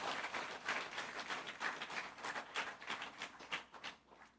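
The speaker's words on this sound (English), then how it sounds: "Give them a round of applause, all of your parents and grandparents and guardians." An audience at a primary school event applauds parents, grandparents and guardians: a quiet, somewhat distant patter of many clapping hands, rising and falling in small surges before fading at the end.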